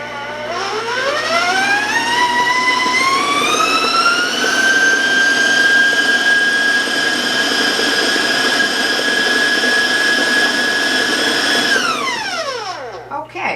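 Electric mixer beating fudge brownie batter, whirring up from low to a loud, high-pitched whine, holding steady for several seconds, then winding down as it switches off.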